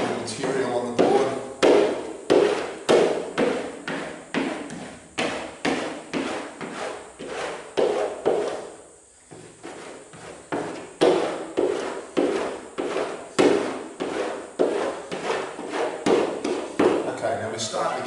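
Surf wax is rubbed onto a surfboard in circles, making quick rhythmic scraping strokes close by, with one brief pause midway before the steady strokes resume.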